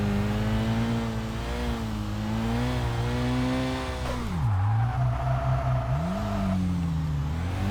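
A high-powered Toyota Supra in the racing video game Kaido Racer 2 revs steadily with a loud, continuous engine drone, dipping briefly as it shifts down before climbing back up, with no one talking.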